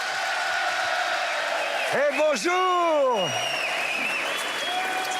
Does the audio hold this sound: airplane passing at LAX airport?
no